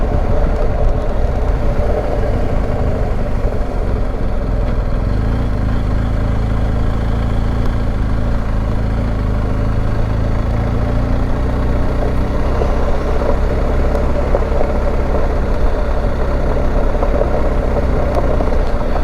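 A BMW R1250GS Adventure motorcycle riding on gravel with road tyres, a loud, steady engine drone and low rumble that stays constant without a break.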